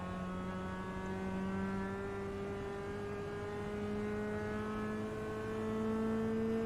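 Global MX5 Cup car engine in the iRacing sim at VIR, a steady, moderately loud in-car drone held on throttle, pitch climbing gently and evenly through a sweeping section, with no voices.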